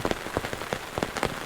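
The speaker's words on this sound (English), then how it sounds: "it just keeps raining harder and harder" Heavy rain pouring down at Trout Lake in Yellowstone, a dense steady hiss of drops drumming on surfaces nearby, with repeated louder spatters rising out of the downpour and no voices.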